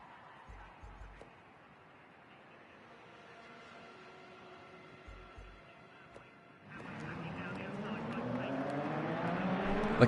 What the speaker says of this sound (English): The cars are beginning to roll.